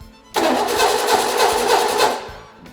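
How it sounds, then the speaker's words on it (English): A six-cylinder car engine cranking over with the starter on an off-road rig, a loud rhythmic churning that starts abruptly and keeps pulsing for about two seconds before winding down, never catching. "I'm gonna go turn the ignition on and then I'm gonna crank it over."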